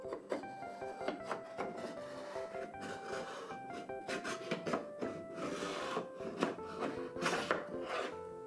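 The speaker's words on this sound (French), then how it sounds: "Utilisons un couteau pour le couper en deux." A wooden toy knife sawing through a wooden rainbow block cake, giving repeated scraping, rubbing and clacking strokes of wood on wood in an irregular rhythm, close and soft, with no talking.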